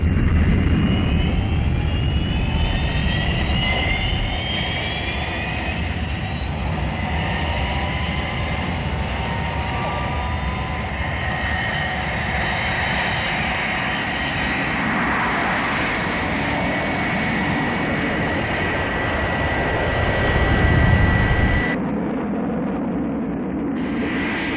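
Fireflash nuclear-powered airliner from Thunderbirds taking off at full power: a loud, continuous jet roar with rising whine, sustained throughout and swelling near the end before cutting to a quieter rumble.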